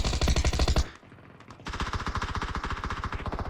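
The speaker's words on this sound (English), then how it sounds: "Kratzy's open fire" Automatic machine gun fire in a battle royale video game, loud and close, a rapid rattling burst followed by a short pause and then another sustained burst.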